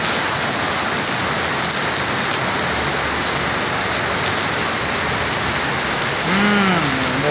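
Heavy typhoon rain pours down in Alabang's South Park, a dense, loud, steady hiss of drops on surfaces, with a brief higher tonal sound near the end and no talk.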